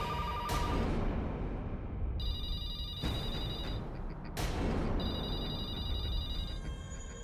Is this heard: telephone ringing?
yes